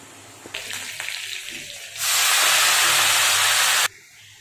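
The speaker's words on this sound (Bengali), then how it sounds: "ডুমো ডুমো করে আলুটা কেটে ভেজে নিচ্ছি।" A loud, sudden burst of hissing and sizzling that holds steady for about two seconds, then cuts off, as potato cubes hit hot oil.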